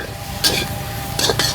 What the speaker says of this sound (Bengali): মশলাটাকে কষিয়ে নিতে হবে।